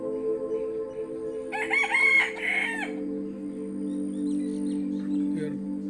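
A domestic rooster crows once in the morning, a single full cock-a-doodle-doo standing out against a steady hum in a backyard with pet birds.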